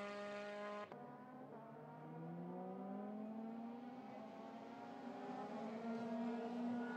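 A Euroformula race car lapping the Barcelona circuit, its engine note cutting out briefly at a gear change and then climbing in a long, steady rising whine, heard at a moderate distance without talk.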